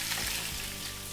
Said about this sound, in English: now I'm going to fry the potatoes until they're brown